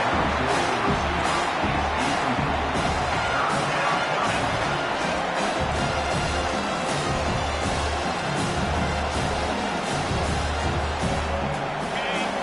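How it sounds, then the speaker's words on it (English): Loud, steady roar of a football stadium crowd cheering the defense on third down, a dense wash of noise building throughout with no clear pauses. "Decibels rising as the crowd gets behind this defense on 3rd down."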